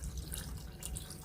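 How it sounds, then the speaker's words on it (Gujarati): Water poured into a pressure cooker of moong dal and cracked wheat khichdi, a soft, brief splashing trickle heard close by and fairly faint, with no talking. "હજુ એક થોડુંક પાણી રેડીએ આપણે"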